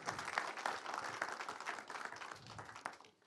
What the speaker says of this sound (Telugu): గట్టిగా ఒకసారి క్లాప్స్ అండి.